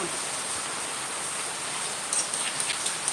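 Steady rain pours down with a constant hiss, scattered drops tapping more distinctly toward the end.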